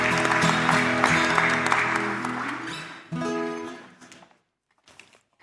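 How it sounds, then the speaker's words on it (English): An audience at a startup pitch event applauds runner-up teams in a large venue, the clapping heard under loud music with sustained tones, then a second swell before fading to near silence. "Let's give a big round of applause to all of our runner-up teams."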